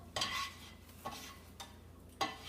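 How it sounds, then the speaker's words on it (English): Soft crackling sizzle of olive oil in a pan, quiet and close, with a few brief scraping stirs breaking through at intervals. "the olive oil gets hot and it starts to sizzle"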